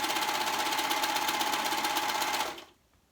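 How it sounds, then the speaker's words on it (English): Serger sewing machine stitching a dress shoulder seam runs in a fast, even mechanical whir with rapid needle chatter, close and loud, then stops abruptly near the end, leaving near silence. "That way it gets serged in there and serged shut."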